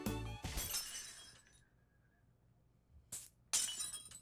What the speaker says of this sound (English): I took my pocket watch and smashed it against the tabletop.